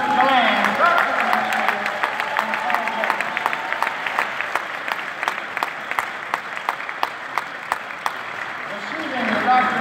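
Graduation ceremony audience applauding a degree recipient, loud crowd clapping that swells at the start, then thins into sharper individual claps with a few spaced, distinct hand claps standing out before rising again at the end.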